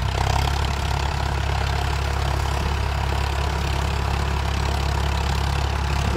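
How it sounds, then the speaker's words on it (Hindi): A Farmtrac 60 tractor engine idling at very low rpm, a continuous loud, steady diesel rumble with a throbbing low thump throughout. "और ट्रैक्टर मात्र 10, 12, 15 आरपीएम पे चल रहा है"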